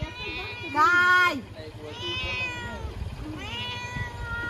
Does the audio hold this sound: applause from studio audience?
no